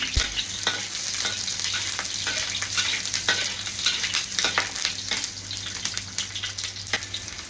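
Chopped shallots, ginger and garlic fry in hot oil in a wok, a steady close sizzle with scraping stirs from a spatula and no talking.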